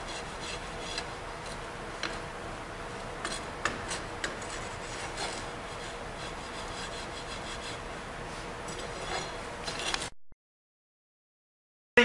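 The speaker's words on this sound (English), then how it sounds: "we're just using a steel bar in order to strike off the top of the box or flatten it out" A steel bar scrapes across packed sand in a sand-casting flask, giving a steady, gritty rasping with small irregular clicks and taps, close up, lasting about ten seconds before falling silent.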